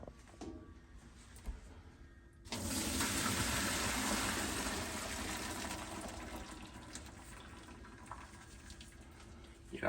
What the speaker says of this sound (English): So I'm going to drain our pasta.